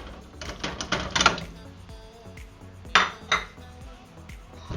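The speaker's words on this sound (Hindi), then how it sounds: "सबसे पहले मैं इसमें चिकन डालूंगी।" Raw chicken goes into a pot of browned onion paste for a white chicken handi, with clattering metal pot and spoon knocks and a couple of brighter clinks, close by and irregular.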